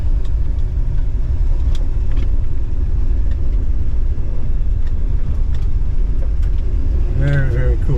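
A car cruises around a neighborhood while warming back up, with a steady low engine rumble and road noise close inside the cabin and a voice speaking briefly near the end.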